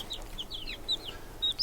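Chickens at a chicken auction give a few faint, high chirping clucks against a soft murmuring background, brief and somewhat distant.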